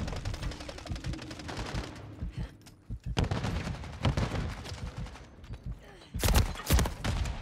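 Rapid automatic gunfire from a KVD Enforcer rifle in the Call of Duty MW3 video game, with dense bursts of shots that pause briefly and then resume, ending in a louder close burst.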